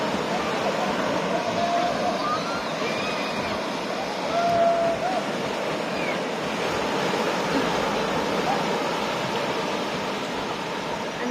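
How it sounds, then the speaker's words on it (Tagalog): Strong ocean waves roar in a steady, loud wash of surf throughout, with faint voices in the background. "ang lakas lang ng alon"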